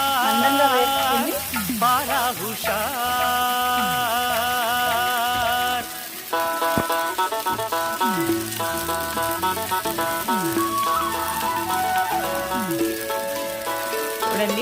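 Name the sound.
oil sizzling in a pan while cooking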